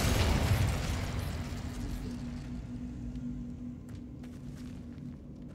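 A fire spell cast in the Hogwarts Legacy video game bursts with a heavy, roaring whoosh that swells at once and then slowly fades into a low rumbling tail.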